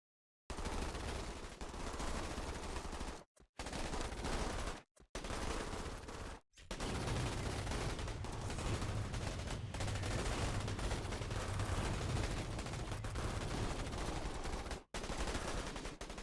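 Dense, continuous automatic gunfire rattles loudly in the strategy video game Starship Troopers: Terran Command, near and unrelenting, broken only by a few brief silent gaps.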